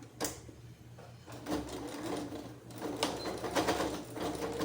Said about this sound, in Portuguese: eu vou fazer uma costura como se fosse a segurança aqui